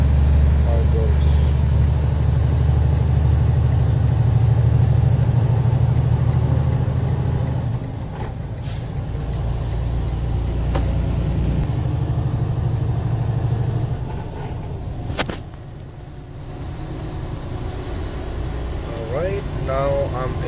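Freightliner truck with a DEF problem driving after a regen, its low engine drone loud and steady from inside the cab, easing off around halfway with a few brief knocks and rattles.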